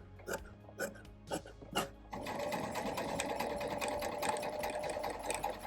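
A sewing machine runs steadily, stitching down a fabric pocket, after a few separate mechanical clicks and taps at the start. The motor hum is close and continuous, with no talking.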